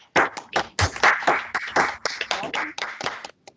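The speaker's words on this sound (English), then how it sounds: "I don't know how should we applaud to Wim, but I can do it with my mic" One person claps hands right up against a microphone, a quick run of loud, close, sharp claps lasting a few seconds with no talking.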